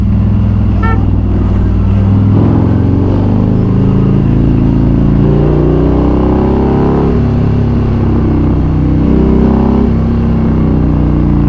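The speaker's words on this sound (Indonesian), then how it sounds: "Kalau akselerasinya nggak mengecewakan motor ini." A 2017 Harley-Davidson Street Glide with a 107ci engine pulls hard while being ridden, a loud, close, deep engine roar that climbs in pitch through several gear pulls over heavy wind noise.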